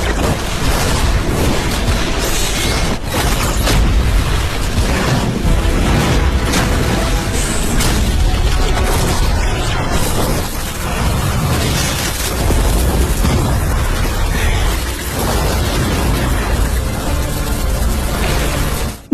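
Explosions from a sword attack in an animated cultivation fantasy series roar loud and continuous, dense broadband blasts and rumbling booms filling the whole stretch with no pauses.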